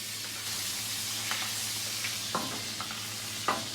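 Fish sizzles in a pan as lemon juices are spooned over it, a steady soft frying hiss with occasional scraping clicks of basting, no voices.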